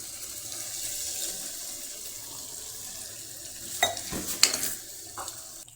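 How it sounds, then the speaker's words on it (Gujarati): Water poured into a pan of thin Manchurian gravy on the stove, a few splashing pours near the end over a steady hiss of bubbling. "એટલે આપણે તેમાં હજુ થોડુંક પાણી નાખીશું."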